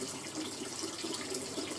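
Water leaks from a pump line on a budget hydroponics setup into a bucket; a steady trickling, running splash continues close by without pause, with no voices.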